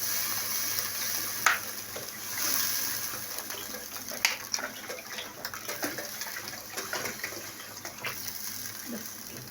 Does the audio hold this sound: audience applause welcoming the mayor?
no